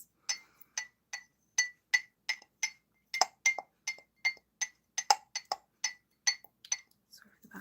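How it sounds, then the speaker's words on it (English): Tea leaves pushed into the base of a cup set up a quiet, steady series of small clinks and taps, roughly two or three a second and fairly close, with no talk. "Just going to make a little bit of background noise here as I push the leaves into the base."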